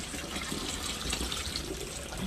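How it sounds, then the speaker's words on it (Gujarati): Water runs steadily from a tap into a vessel, a soft continuous splashing gush at low volume with no voices. "પાણીના વાસણ ભરી રાખું છું"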